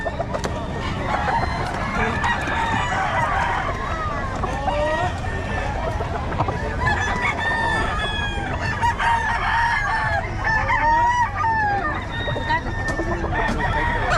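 Several roosters crowing repeatedly amid constant clucking and a busy crowd murmur at a chicken market in Bocaue, loud and close, with overlapping calls throughout.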